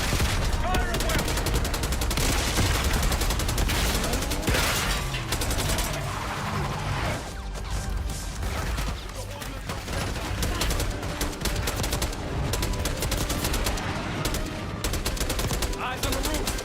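Sustained gunfire in the Call of Duty Black Ops 6 video game: dense, continuous rattling automatic bursts and scattered single shots during an assault on a palace gate, loud throughout, with radio voices talking over it.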